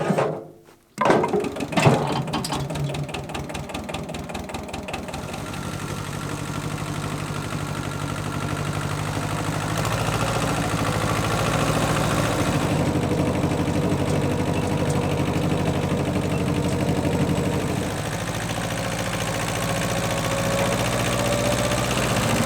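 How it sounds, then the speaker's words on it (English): A tractor engine runs loud and steady for a long stretch with mechanical clanking and hydraulic strain while lifting a massive stone, the pitch shifting slightly as it works under load. "let's see if the tractor can even lift this stone"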